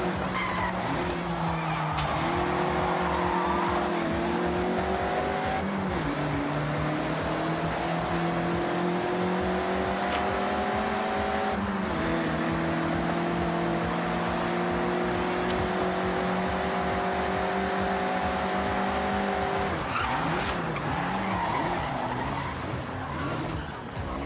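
Mazda MX-5 in the Forza Horizon 6 racing game sliding sideways through corners, its tires squealing in long steady tones over the engine drone, pitch shifting as each slide ends and another begins.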